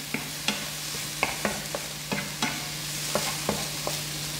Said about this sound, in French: on mélange les champignons avec l'ail et le persil